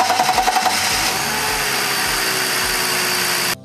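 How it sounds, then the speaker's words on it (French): A BMW E46 330i engine cranks with a few rapid pulsing turns, then catches and runs at a steady, buzzing idle close by before cutting off abruptly. "Je vais réessayer de démarrer"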